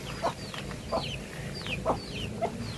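Several chickens cluck in a yard, short throaty calls repeating every half second or so over a steady outdoor background, with faint higher bird chirps mixed in.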